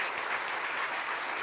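Steady, dense applause from a church congregation during a Sunday service fills the whole stretch, a continuous wash of clapping at moderate loudness.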